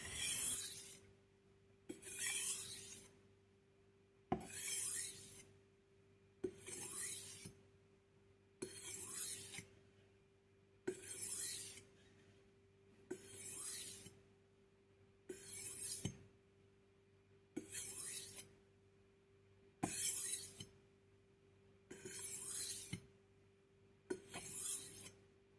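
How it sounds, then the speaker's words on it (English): A kitchen knife is sharpened in about eleven evenly spaced rasping strokes, each lasting roughly a second with short pauses between them. The strokes are close, moderately quiet and heard without speech. "there you go, the knife is sharpened"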